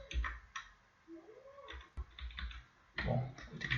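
Computer keyboard typing in quick bursts of clicks while entering an Apache Kafka command, close and fairly quiet, with short pauses between runs of keystrokes.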